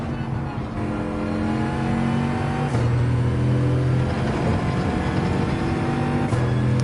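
A Bugatti Veyron in Gran Turismo 7 pulls hard up the final uphill stretch at Red Bull Ring. The engine roars loud and close and climbs steadily in pitch, dropping briefly on the gear changes.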